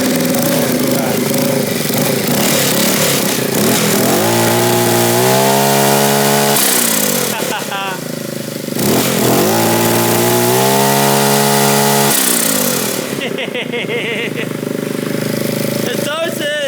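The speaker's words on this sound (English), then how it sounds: "oh look at the turbo just spooling away in there" Turbocharged 125cc go-kart engine running with fuel injection, its turbo spooling up in rising whines and fluttering off between revs in repeated cycles, loud and close throughout.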